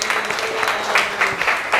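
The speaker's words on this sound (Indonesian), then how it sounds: "Yang lain kasih aplaus untuk teman-temannya." Classroom students clapping for their classmates after a warm-up game, a steady patter of many hands at close range, fairly loud, with a bit of voice mixed in.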